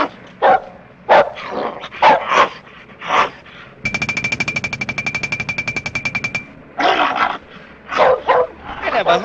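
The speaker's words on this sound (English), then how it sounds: "I never heard two dogs make so much noise." Two dogs bark loudly and rapidly in an old slapstick comedy, with sharp yaps broken by a long buzzing, rattling stretch in the middle, close and dominant.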